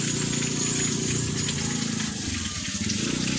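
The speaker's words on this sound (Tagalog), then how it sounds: "itong tubig na to ay forever na umaagos" Hot spring water gushing continuously from pipes into a pool, a loud close splashing rush with a low churning undertone, no talking.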